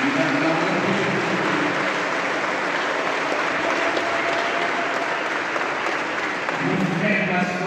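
Congregation at a memorial service applauding steadily, a dense continuous clapping that fills the whole stretch, with a voice speaking over it.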